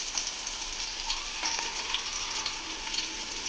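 Onions, green chilies and curry leaves frying in hot tempering oil give a steady, close sizzle and crackle with faint stirring scrapes, and no voices over it.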